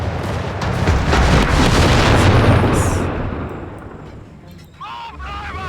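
Dense gunfire and heavy explosions roar through a Company of Heroes 3 battle in North Africa, loud and continuous for several seconds before easing, with a radio-style voice line cutting in near the end.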